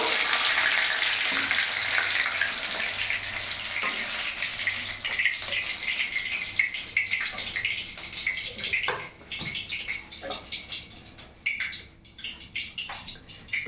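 Loitta fish pakoras deep-fry in hot oil, giving a dense, steady crackling sizzle that thins out toward the end, joined by a few scattered clicks and knocks from utensils.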